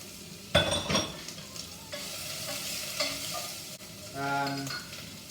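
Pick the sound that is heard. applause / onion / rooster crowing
onion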